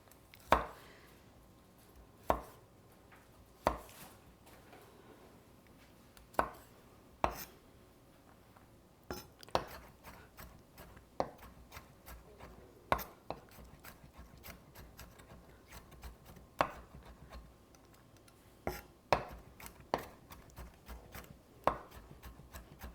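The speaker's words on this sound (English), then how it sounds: "The last thing I need to chop is the garlic." A knife chops garlic on a cutting board for stuffing, giving sharp, close, irregular taps with quiet pauses between strokes.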